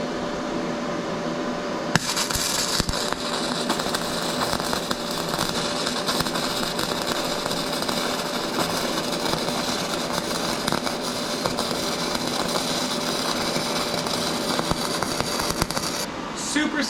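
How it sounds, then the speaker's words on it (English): A YesWelder MIG-250PRO-SG runs gasless flux-core MIG wire along an open corner joint, a steady, close sizzling crackle that starts sharply after about two seconds and continues evenly until it stops near the end. "Let's lay down now and finish this open corner with some gasless MIG."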